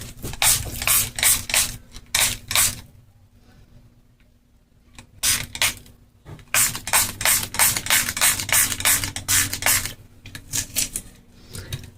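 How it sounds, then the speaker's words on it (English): Repeated short bursts of alcohol from a pump spray bottle, fired in quick clusters, a pause, then a longer run of rapid hissing squirts close to the mic. "I am going to spray that with alcohol."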